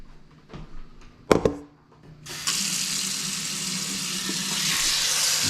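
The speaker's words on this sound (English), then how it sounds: "Rinse the rice." Kitchen faucet turned on to rinse rice, a few clunks and handling knocks first, then a steady loud hiss of running water into a sink that continues to the end.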